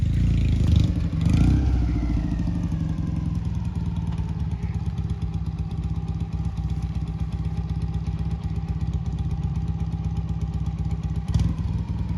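A Soviet Dnepr or Ural motorcycle engine runs steadily and loudly nearby, a continuous rough drone with light mechanical clatter and no talk over it.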